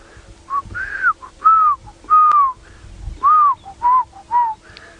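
A person whistles a series of short, clear rising-and-falling notes in spaced bursts, imitating the whistling call of a black-crowned tchagra on an African safari at sunrise, with quiet background noise.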